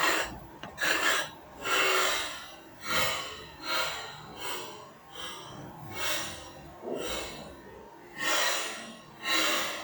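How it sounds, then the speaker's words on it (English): A carrot scraped with rhythmic rasping strokes while making Jamaican vegetable soup, about ten close, crisp scrapes at a steady pace, each rising and fading, with no talking. "I'm going to do now is scrape the carrot."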